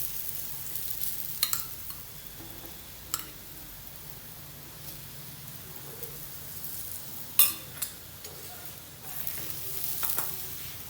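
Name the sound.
paratha frying in ghee on a pan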